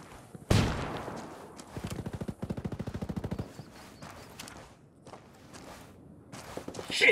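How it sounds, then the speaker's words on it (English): A flashbang grenade goes off in the Ghost Recon Wildlands video game as a single sharp, loud bang, followed by rapid bursts of gunfire and scattered clatter. "Flashbang's going in."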